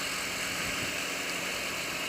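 A motorcycle engine runs at a steady, even idle close by, a continuous buzzing rumble.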